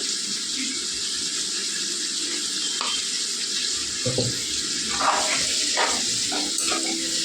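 Raw prawns being stirred in hot oil in a pan for a ridge gourd and prawn curry, a steady close sizzle with scraping spoon strokes and soft clatters throughout.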